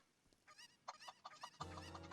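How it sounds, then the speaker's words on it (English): Chicken clucking in the Ocarina of Time video game, a run of short, bright, repeated clucks that grow louder toward the end over a low game background hum. "I hate this chicken."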